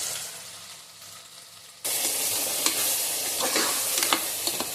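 Ground paste frying in hot oil, starting as a faint hiss and then bursting into loud, steady sizzling with crackles and occasional spoon scrapes once the paste hits the pan.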